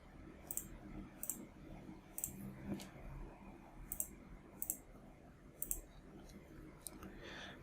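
Mouse clicks while working in Maya software, sharp close taps spread across several seconds, single clicks mixed with a few quick double clicks, over a faint hum with a voice murmuring softly.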